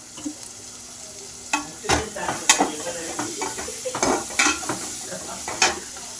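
Capsicum, tomato and onion fry in a pan for veg pulao, a soft steady sizzle broken by close scraping stirs and occasional clinks of a spoon against the pan.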